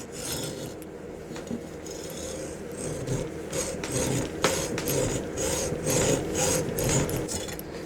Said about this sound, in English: Now I'm using my thumb to keep the saw on track until it starts to really bite into the metal